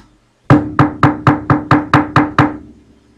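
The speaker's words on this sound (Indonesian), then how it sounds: "Tiba-tiba saja terdengar suara orang mengetuk pintu." Someone knocks on a door nine times in a quick, evenly spaced series. The raps are loud, close and sharp, with silence before and after.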